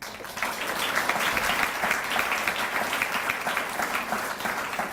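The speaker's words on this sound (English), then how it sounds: "a round of applause for the speakers" Sustained applause from a seated audience at a celebration event honoring the speakers, a dense, even patter of many hands clapping steadily for the full five seconds at moderate volume, with no voices.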